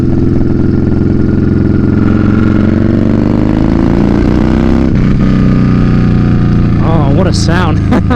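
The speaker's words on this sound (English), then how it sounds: "That exhaust is beautiful." A Yamaha Bolt motorcycle's exhaust, a loud, deep, continuous engine rumble heard close up while the bike is ridden, with a rider talking over it and a brief rise in pitch near the end.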